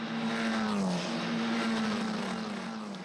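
Italian F4 single-seater race cars climb the hill into San Donato at Mugello Circuit, a steady high-pitched engine howl with shifting pitch as they pass at mid distance, with no talk over it.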